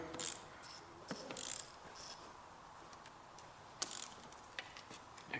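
A 10mm socket ratchet clicking while tightening the starter on a 2010 Nissan Versa, with quiet irregular ticks and a few sharper metallic clicks over a faint background hiss.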